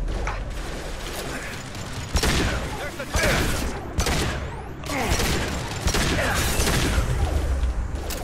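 Heavy pistol shots ring out in the sci-fi shooter Mass Effect 2, a series of sharp, loud bangs at irregular intervals over mechanical clatter and a busy combat soundscape.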